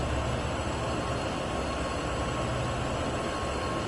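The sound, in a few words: train starting to move, from video game Train Sim World 2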